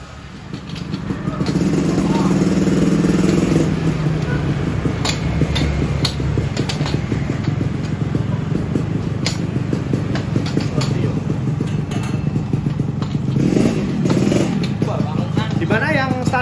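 A Yamaha RX King two-stroke motorcycle fitted with a chrome standard racing exhaust runs close by in a loud, steady, crackling drone with ticking engine texture, and people talk over it.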